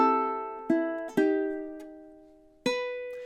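Ukulele picks out measures 26-27 of a song: four clean plucked notes in a slow, uneven rhythm, each ringing and fading, played alone and close.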